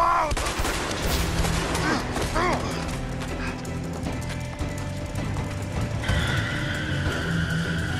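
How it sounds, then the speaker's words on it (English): Gunfire from the co-op video game A Way Out, a busy mix of repeated shots and game sound effects with a steady background hum, heard throughout at moderate loudness. "Trying to shoot a shooter."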